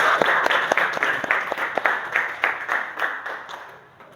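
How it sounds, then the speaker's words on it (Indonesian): A classroom audience claps for a student group during a teaching practice session, giving about four seconds of steady, fairly close applause with distinct individual claps that gradually tapers off. "beri plus tepuk tangan buat kelompok 2"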